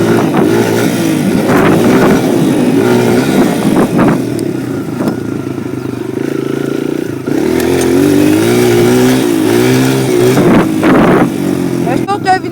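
A motorcycle lapping a race track, its engine droning steadily and loud throughout with shifting pitch as it rises and falls through the gears, wind buffeting the microphone, and a voice talking over it.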